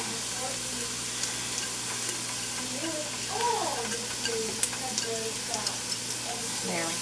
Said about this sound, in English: So now we're going to add the garlic.